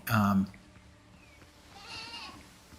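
A goat bleats in the pirate video game Windrose, one loud close bleat at the start followed by a fainter second call, with quiet game ambience between.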